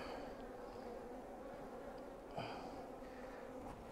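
Honey bees swarming over cut comb frames at an open hive, a dense, steady buzzing hum close to the microphone with a brief louder swell partway through.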